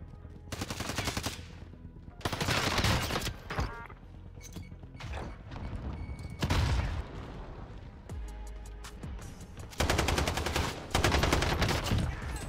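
Rapid automatic fire from an F2000 rifle in Warzone, several loud close bursts with short pauses between them, sharp cracks layered over game noise and mechanical clatter.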